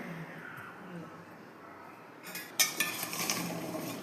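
Bilimbi is mixed into boiled and cooled water in a vessel, beginning with a quiet, murmuring stretch and then giving way to a burst of clinking and scraping from a utensil against the container.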